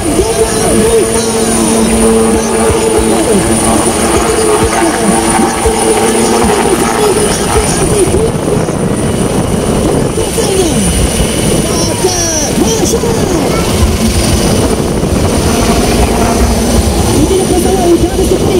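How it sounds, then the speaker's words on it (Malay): A Super Lynx military helicopter of the Royal Malaysian Navy's 501 squadron flies overhead at a maritime special forces demonstration, its loud continuous rotor and turbine roar dominating under a commentator speaking Malay. "pesawat Superlink milik Tentera Diraja Malaysia di bawah skuadron 501 aircraft captain Commander Syarul Nazar bin"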